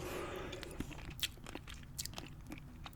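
Crunchy corn nuts are chewed close to the mic, giving a quiet run of sharp, irregular crunches and bites with softer grinding between them and no talking.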